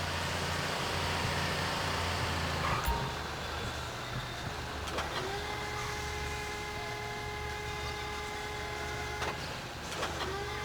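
A heavy machinery vehicle idles and hums at a port in GTA 5, a low steady mechanical rumble with sharp clanks and a rising whine partway through.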